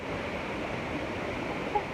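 Ta Ton waterfall, running low on water, gives a steady, even rush of falling water heard from some distance, with no break across the short stretch.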